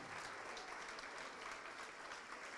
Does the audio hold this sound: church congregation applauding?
yes